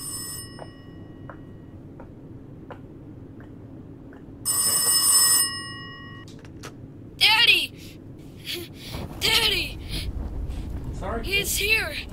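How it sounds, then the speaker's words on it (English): An old-style telephone bell ringing from a phone in a garden in the VR horror game Rise of Insanity, two bursts of ringing among other game sounds, with someone talking over parts of it. "Oh, there's a random phone in the middle of the garden."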